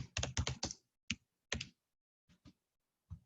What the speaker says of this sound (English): Please forgive my typing skills.